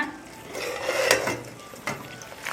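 A spoon or spatula stirs meal maker puttu around a pan, soft scraping with a faint sizzle and a couple of brief clinks against the metal, close and fairly quiet, no speech.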